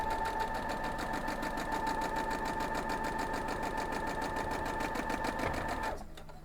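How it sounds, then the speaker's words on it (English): A sewing machine runs close up, stitching quilt pieces straight down in one steady, fast, even chatter for about six seconds before stopping. "And then we're going to sew these straight down."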